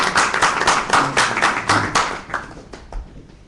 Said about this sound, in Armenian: Մենք նորից ողջունենք եւ ծափարենք